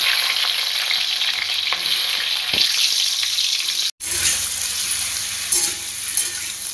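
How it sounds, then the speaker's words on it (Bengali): Pumpkin pieces coated in salt and turmeric fry in a hot pan with a steady, loud sizzle and occasional scraping stirs, briefly cut by a moment of silence midway. "কুমড়োটা কেটে নুন হলুদ মাখিয়ে রেখেছিলাম, সেটা একটু ফ্রাই করে নিই।"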